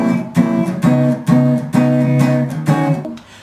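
Electric guitar notes picked in a round jazz tone, each note struck with a distinct pick attack in a steady phrase of about seven notes, close and clear with no talking.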